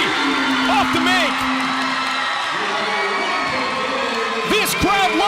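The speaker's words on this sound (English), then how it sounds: "This crowd loves it." A gym crowd at a girls' high school basketball game between Tuba City and Winslow erupts in loud, sustained cheering with sharp whoops and shrill yells rising above the roar for several seconds.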